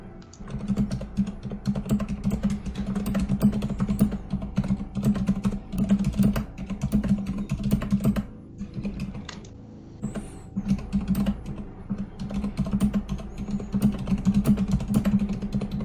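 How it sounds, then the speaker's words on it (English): Loud, rapid typing on a computer keyboard, a dense, continuous clatter of keystrokes close to the microphone with a brief pause midway, over a steady low hum, no voices. "Some loud typing"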